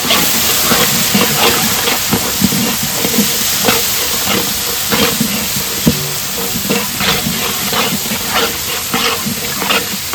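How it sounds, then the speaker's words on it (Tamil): Washed adamant creeper (pirandai) sautéed with golden-fried ingredients in a pan, giving a loud, continuous sizzle with steady hiss and repeated scraping strokes of a spatula throughout. "எல்லாமே பொன்னிறமாக வதங்கின உடனே அலசின பிரண்டையை கூட சேர்த்து வதக்கிக்கிறோம்"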